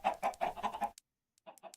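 A chicken in Minecraft gives a quick series of clucks, then falls silent, then clucks again in a shorter burst, close and clear with no talking.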